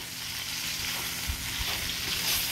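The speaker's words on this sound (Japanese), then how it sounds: "焦げる寸前っていうかぐらいまでもうあの焼き目をつけちゃいます" Pork belly sears over high heat in a non-stick pan, a loud, dense and continuous sizzle with no talking.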